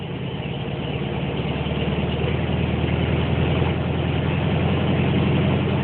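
Volkswagen Beetle engine idling, a loud, steady low rumble with an even pulsing throb that holds constant throughout, close to the car and with no talking.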